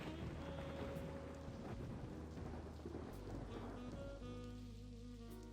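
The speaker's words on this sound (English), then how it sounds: "It sounds like it just started to rain." Rain falling outdoors, a soft steady hiss of drops with faint low rumbling underneath, distant and quiet throughout.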